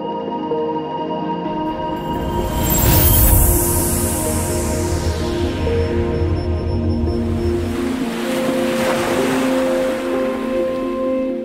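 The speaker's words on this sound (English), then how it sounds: "stunning waves and interesting conditions await" Storm waves break along the Dingle Peninsula coast after a storm, a loud, continuous roaring surf that swells into a heavier crash and then keeps rumbling steadily.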